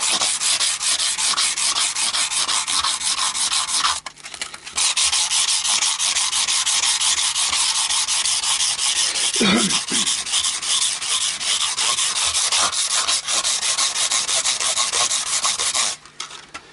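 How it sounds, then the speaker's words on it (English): Guitar frets on an Indian Encore AristoCat Strat neck are sanded to remove file marks, giving a loud, continuous abrasive rubbing with rhythmic back-and-forth strokes and brief pauses around the fourth and sixteenth seconds. "going to try and remove the file marks and just soften the face of the frets off"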